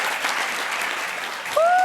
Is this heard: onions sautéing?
no